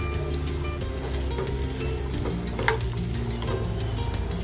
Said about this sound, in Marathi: सर्वप्रथम सुकं खोबरं आणि ओल्या नारळाचे काप आपण एकत्र भाजून घेणार आहोत